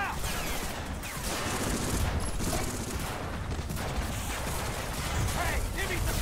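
Dense, continuous battle gunfire from a World War II beach assault in Medal of Honor: Frontline, a steady roar of overlapping rifle and machine-gun shots with no pauses throughout.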